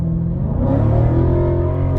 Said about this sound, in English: this car here is just such a really good sounding car